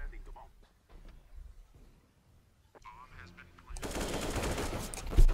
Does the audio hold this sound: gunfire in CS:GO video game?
yes